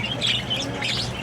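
Chirping from a pet bird, a yellow-face mutation with blue body colour, comes as a steady stream of close, moderately loud tweets and squawks without any talking.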